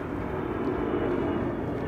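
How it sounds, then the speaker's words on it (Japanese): An airplane passes overhead with a loud, steady jet roar filling the whole stretch, broad and continuous without any talk over it. "飛行機がすごい音ですね"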